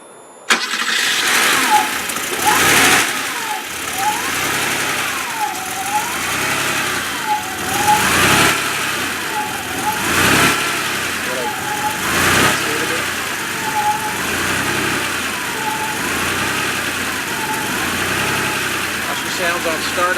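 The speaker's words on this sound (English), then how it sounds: "Let's start the car real quick for you." A Porsche 911 engine cranks and fires, then settles into a steady idle with a regular cyclic pulsing, close and fairly loud, punctuated by several sharp bursts.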